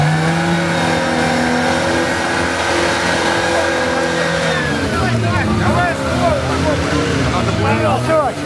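A Lada Niva engine starts and revs, its loud droning pitch climbing and falling through throttle blips. Voices are heard over the engine.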